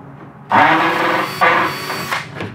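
A power drill bores into a polycarbonate Sleekline windshield during a Yamaha installation, with two whining bursts, the first starting sharply and a second biting in about a second later, followed by a shorter trailing burst.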